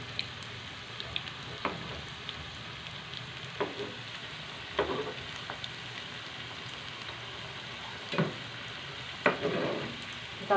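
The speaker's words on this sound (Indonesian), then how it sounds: "Yang tadi saya bentuk bulat-bulat, saya mulai gorengnya. Minyaknya agak banyak ya biar matang, cepat matang." Round tempeh patties (perkedel tempe) fry in plenty of hot oil, giving a steady close sizzle with scattered louder pops and crackles throughout, no voices.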